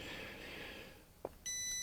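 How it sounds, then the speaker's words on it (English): After a soft click, an FNIRSI WHM-10 wood moisture meter on wet wood starts emitting a steady, high-pitched tonal beep, close and clear against faint background noise. "So we are already beeping."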